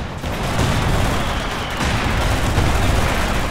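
Dense, continuous gunfire and booming artillery pounding a headquarters in the Company of Heroes 2 video game, loud and sustained with barely a break.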